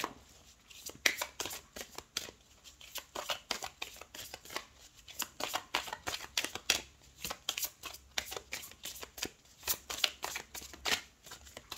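Tarot cards are shuffled for a full moon reading in a long run of close, crisp riffles and soft slaps that repeat in irregular bursts, with no one talking.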